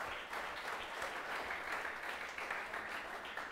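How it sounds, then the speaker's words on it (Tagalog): A church congregation claps together at a Sunday service, steady dense applause from many hands, moderately loud and continuous, with no talk over it. "Pumalakpak ang naniniwala."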